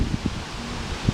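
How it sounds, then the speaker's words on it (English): Wind rustles leaves on a windy hike in a tropical rainforest with Cuban royal palms nearby, a steady close hiss with low gusty buffeting and a few soft thumps. "I've been up here a lot, but not when it's been this windy"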